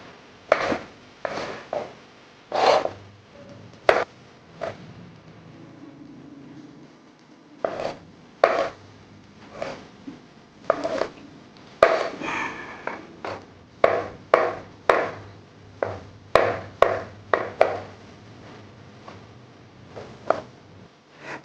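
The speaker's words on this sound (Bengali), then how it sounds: "প্রথমে আমি যে ভেজিটেবলগুলো নিয়েছি সেগুলো কিছুটা কেটে নেব।" Vegetables for chicken Alfredo pasta are cut on a board with a long series of crisp knife knocks, some spaced apart and some in quick bursts, close and clear with a soft background hum.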